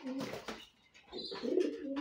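Racing pigeons coo softly and close by, with low, repeated throaty coos overlapping in an uneven rhythm at a quiet level.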